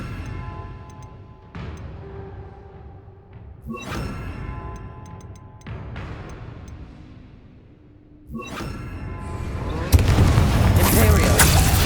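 Confringo blasting spells fired in the video game Hogwarts Legacy, a series of sharp booming explosions spaced a couple of seconds apart, each with a decaying tail, ending in a louder, denser burst of blasts and crackling debris.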